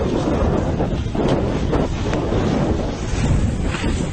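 Intense storm winds roar over the microphone in a severe South Carolina storm that brought large hail, a loud, continuous buffeting rush with no pauses.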